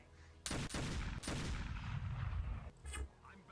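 Video game gunfire: two sharp blasts, then a dense stretch of sustained shooting and rumbling explosions in a loud combat scene, ending with a brief final burst as voices call out.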